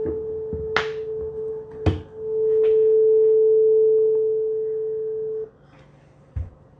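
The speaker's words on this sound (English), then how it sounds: "we take a tuning fork and we try different objects to see if it will resonate" Struck tuning fork resonating through the body of a Loog guitar, a pure steady tone that swells after sharp taps and holds for several seconds before cutting off abruptly, close and clear.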